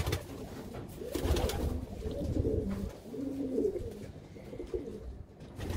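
An ash red spread pigeon being handled coos softly in repeated low, throaty rolling phrases, close by with faint rustling in between.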